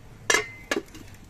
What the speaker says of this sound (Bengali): এবার আমি এই শিরাটা ঢেকে রাখছি।